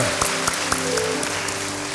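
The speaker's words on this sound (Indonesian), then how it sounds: "Berikan tepuk tangan lagi bagi Tuhan" Church congregation clapping during a worship service, a steady wash of applause with sharper hand claps punctuating it at regular intervals, close and fairly loud, with no talk over it.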